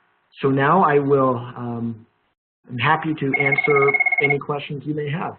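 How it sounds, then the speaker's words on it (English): A phone rings during an online webinar, giving a steady electronic double tone that plays under a speaker's continuing talk. "sorry about my phone ringing."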